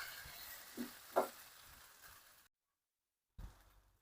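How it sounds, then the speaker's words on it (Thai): Tomatoes stir-fried briefly with glass noodles in a pan give a faint, soft sizzle with a few light scraping stirs, then a short silence before the sizzle returns. "มะเขือเทศค่ะ อันนี้เราจะผัดแค่แป๊บเดียวนะคะ"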